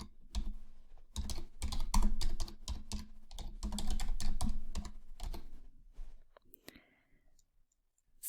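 Rapid typing on a computer keyboard, close and crisp, with bursts of dense keystrokes for about six seconds before thinning to a few isolated clicks and silence.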